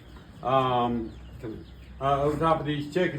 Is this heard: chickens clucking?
yes